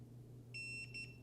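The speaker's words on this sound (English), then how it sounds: "it beeps, tells us to let go," A Spire GNSS receiver beeps as it powers off: a few short, thin electronic tones in quick succession, faint and clear over a quiet low hum.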